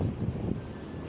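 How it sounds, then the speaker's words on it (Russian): A strong squall wind of roughly 27 metres per second in Pyatigorsk makes a steady, loud broadband roar buffeting the microphone for about a second. "Короче, сильный ветер."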